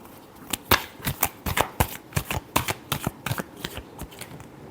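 Tarot cards shuffled by hand in a crisp run of rapid riffles and slaps, close and fairly loud, with no voices.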